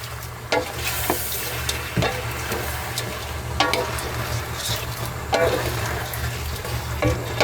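Shrimp frying in a hot pan with garlic, giving a steady close sizzle with occasional stirring scrapes and clicks of a utensil against the pan.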